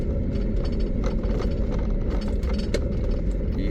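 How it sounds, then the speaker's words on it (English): Loose tools clank and rattle inside a moving Nissan 350Z, a busy, irregular metallic knocking over a steady low road and engine rumble. "You hear all my tools and everything clanking around"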